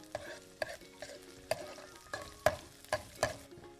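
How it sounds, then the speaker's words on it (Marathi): Ginger and green chilli pieces being stir-fried in a pan, with repeated sharp scraping strokes of a spatula about twice a second over a steady low sizzle, close and moderately loud. "हे सगळं साहित्य आपल्याला जरा दोन मिनटं परतून घ्यायचं आहे"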